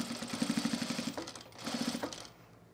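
A sewing machine stitches through thick garment layers in two close, rapid bursts of even clattering, stopping briefly between runs and ending in quiet.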